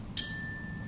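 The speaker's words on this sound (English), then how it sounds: "This is the chime I use." A meditation chime is struck once, giving a bright ringing tone with high overtones that decays quietly over most of a second in a still room.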